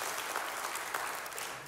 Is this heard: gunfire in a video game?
no